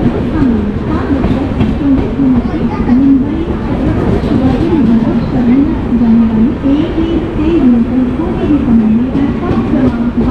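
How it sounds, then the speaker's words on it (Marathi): The Mandovi Express arriving at a station platform, a loud continuous rumble of rolling carriages with a wavering tone riding over it throughout. "चला मंडळी, फायनली ट्रेन आलेली आहे."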